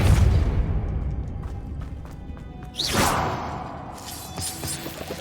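A Depulso force spell cast in Hogwarts Legacy: a deep boom and whoosh near the middle, with a sharp rising burst and rumbling tail, set against low ambient rumble, with no talk.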